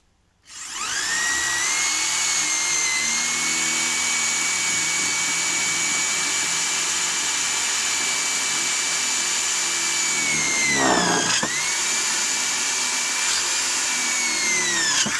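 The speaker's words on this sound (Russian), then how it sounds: "сверлю." A power drill bores into a wooden board for a homemade bench, a steady high whine running continuously for about ten seconds with a brief dip in pitch near the end, close and loud, no talking.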